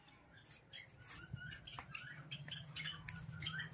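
Frightened birds in an aviary flap their wings in scattered soft bursts, with faint rustling and brief squawks, heard fairly quietly.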